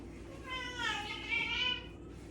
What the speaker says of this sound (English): Cat's always gonna make a cameo.